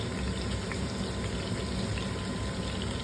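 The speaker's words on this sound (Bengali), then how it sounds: "এইভাবে আমি আগে বেগুনটা ধুয়ে নেই" An eggplant is rinsed under a steady stream of running tap water, a constant close gushing splash throughout with no talking.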